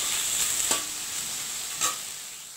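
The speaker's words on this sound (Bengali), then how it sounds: "আবার কিছুক্ষণ খুব ভালো করে কষাতে হবে।" Fish egg curry masala being stir-fried in a pan, a soft continuous sizzle with two sharper spatula scrapes standing out.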